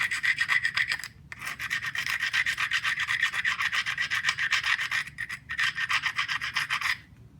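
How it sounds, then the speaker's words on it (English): Someone scrapes a surface by hand in rhythmic, rasping strokes, close up and fairly loud, with two brief pauses between runs of strokes and no voices. "And we go ahead and start scraping this everywhere."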